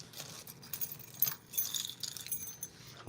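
A bunch of keys jangles and clinks nearby in a series of short metallic rattles and shakes that come in uneven bursts over a few seconds, with no one talking.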